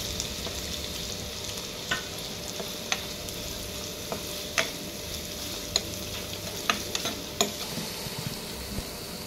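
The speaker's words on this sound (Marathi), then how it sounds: "तेजपत्ता, जावित्री आणि थोडेसे जिरे। हे मसाले थोडेसे फ्राय करून घेऊया।" Whole spices, bay leaf, mace and cumin among them, fry in oil in a pan with a steady close sizzle, while a spoon scrapes and clinks against the pan at intervals as they are stirred. No one talks.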